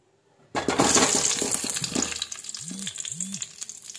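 Fresh lemons drop into hot sesame oil for lemon pickle, setting off a loud burst of frying sizzle that starts abruptly and keeps crackling steadily, with a few stirring scrapes and a faint tonal swoop near the end.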